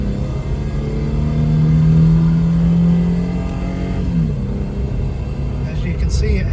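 A high-mileage 2006 Toyota Tundra pickup, nearing 550,000 miles, strains to accelerate on the road, its engine drone rising and wavering steadily throughout, heard from inside the cab.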